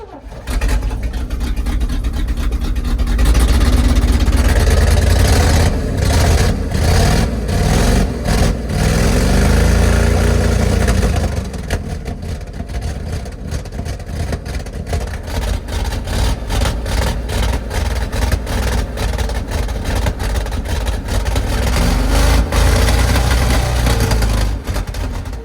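A cold engine idles roughly after a winter start with the choke apparently still on, a loud, steady low rumble with uneven pulsing throughout, occasional faint voices in the background.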